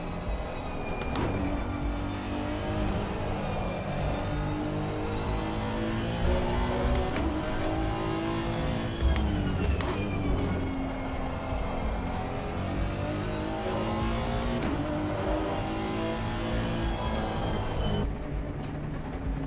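A Honda race car engine revs hard in a PlayStation 5 racing video game, wavering loud and up close through repeated rises and drops in pitch over shifts, with brief sharp clicks scattered throughout.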